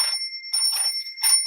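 A bell, rung as a sound effect, gives three bright metallic rings in quick succession, close and clear with no talking.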